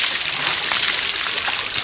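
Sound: water splashing while washing someone

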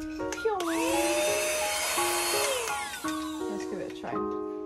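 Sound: new Hoover vacuum cleaner running

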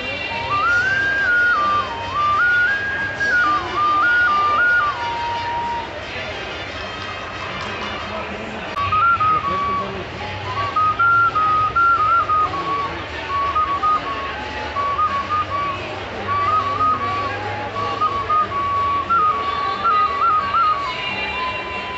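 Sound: handmade whistles being blown

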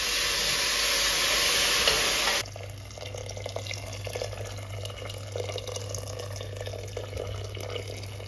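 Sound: pouring boiling water onto sautéed lentil soup ingredients

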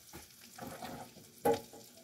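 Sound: layered French toast frying in a pan

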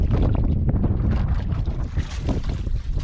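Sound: monsoon wind blowing at sea on a boat

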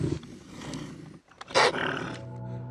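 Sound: wolverine call recording

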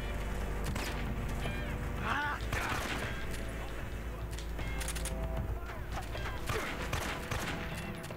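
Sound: gunfire in Metal Gear Solid 3 video game

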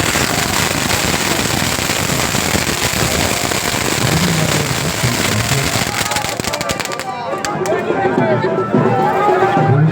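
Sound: fireworks display at a club ground

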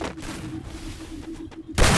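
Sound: shotgun gunfire in a video game, M1887

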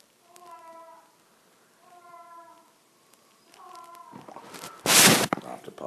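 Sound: cat meowing while playing with a mouse

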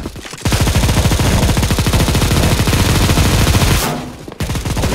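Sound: gunfire shooting a box in video game CS:GO

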